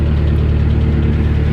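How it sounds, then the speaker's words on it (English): A narrowboat engine runs loud and close, a dense, steady low throb with a rumbling chug and no voices. "I'm just going to have to give it a couple of revs just to pick things up a little bit"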